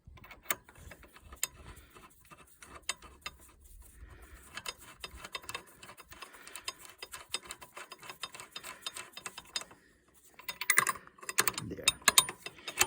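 A socket ratchet working on a Rover 75 engine during a head gasket replacement gives soft, quick clicking bursts with brief pauses, close and fairly quiet, ending in a louder flurry of clicks.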